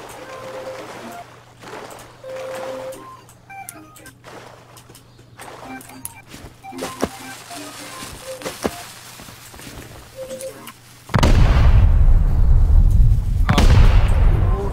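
A raid in the video game Rust has muffled in-game gunfire and thuds, then a loud, sustained explosion roar near the end that lingers and fades. Speech is present.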